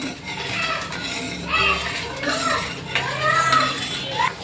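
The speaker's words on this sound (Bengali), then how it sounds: "এবার চিনিটা ভালো করে একটু নাড়িয়ে মিশিয়ে নেবে জলের সাথে" Sugar stirred into hot water in a bowl, a spoon clinking and scraping against the sides in a repeated rhythm, close up, with faint voices in the background.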